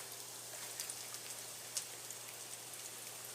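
Garlic, shallot and mushrooms sauté in a pan with a steady, even sizzling hiss and a few faint pops, close and continuous throughout.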